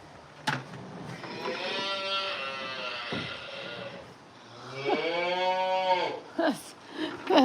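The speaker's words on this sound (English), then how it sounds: "That cow sounds so pretty." A cow on a ranch moos twice in long, tonal calls, the first from about one to three seconds and the second near five seconds, fairly close and clear, with brief noises between them.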